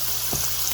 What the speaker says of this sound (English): cook the bacon until it's really crispy.